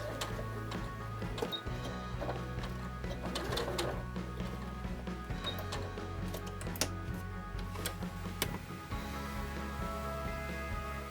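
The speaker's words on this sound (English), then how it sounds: "Sew slowly till the end, then secure again the seam." A sewing machine stitching a seam, its steady rapid mechanical whirr and ticking running continuously, close but fairly quiet, with brief pauses and small clicks, and no speech.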